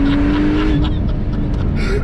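A 900-horsepower Porsche surges under launch control, its engine roaring loud and close from inside the car with a rising tone, while people talk excitedly over it.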